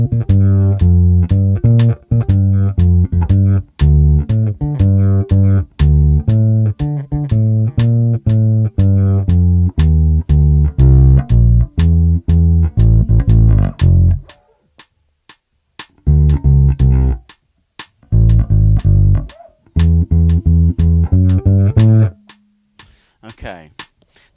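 Bass guitar plays a section of a song, loud and close, with rhythmic plucked notes that break into short, sparse phrases and pauses near the end.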